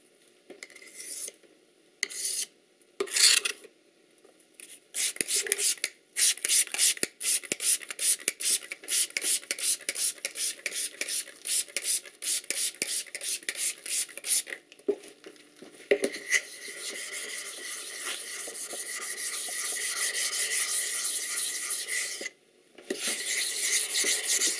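A blade is honed on a 1000 grit sharpening stone, with rhythmic scraping strokes in quick repeated passes, pausing briefly and then settling into a longer, steady rasp close to the listener.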